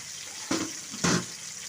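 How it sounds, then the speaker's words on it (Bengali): Water poured into a bowl in a kitchen, two brief splashing pours about half a second apart over a steady background hiss, close and fairly soft. "আর আমি এখানে সামান্য জল নিয়ে নিচ্ছি বাটির মধ্যে।"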